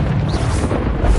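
A Bombarda spell blast in Hogwarts Legacy, a loud, sustained booming explosion with rumbling low end filling the whole moment, no speech over it.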